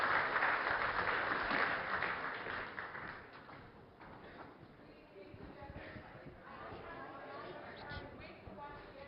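An audience at an event breaks into loud sustained applause, dense clapping that fades gradually and then settles into scattered claps under ambient hall noise.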